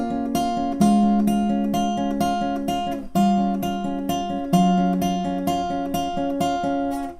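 Acoustic guitar playing the picked riff of a song, with ringing plucked notes over shifting chord shapes in a steady, flowing pattern. It is close, clear and played alone.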